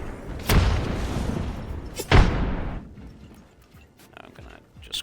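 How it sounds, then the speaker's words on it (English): Two heavy booming blasts from frag grenades launched and exploding in Apex Legends, each a sharp broadband impact with a long rumbling decay, spaced about one and a half seconds apart, followed by quieter game clatter. "And he shoots grenades a lot farther. Launching frag."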